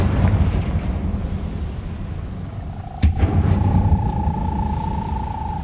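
Confringo explosion spell cast in Hogwarts Legacy, a sharp sudden blast with a lingering ringing tone afterward, set against a steady rumbling game ambience.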